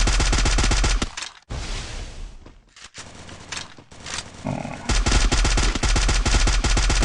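Rapid gunfire and explosions in the Free Fire battle-royale game, loud bursts of automatic shots that cut out briefly and then resume as a dense, rhythmic volley.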